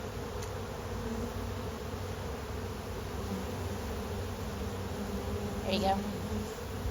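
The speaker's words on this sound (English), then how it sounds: "all the hungry bees in the area are robbing out all of the honey that was in this hive" Hungry honey bees rob honey from a hive in a constant, close buzzing drone that carries evenly throughout, with a voice speaking briefly near the end.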